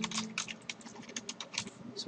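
Quiet, close typing on a computer keyboard, a quick irregular run of soft key clicks with no voices.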